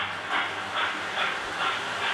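A Hornby model Flying Scotsman steam locomotive chuffs from its sound module under HM6000 control: soft, evenly spaced hissing puffs, about two per second, thin and somewhat faint, with no talk.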